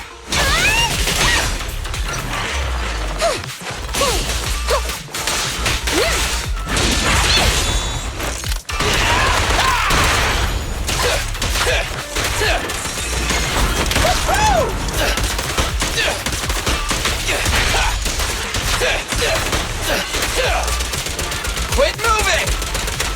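Billy firing his guns in the video game Zenless Zone Zero: loud, rapid bursts of gunfire with mechanical clacks and impacts running almost nonstop, with a character's voice shouting briefly over the shooting.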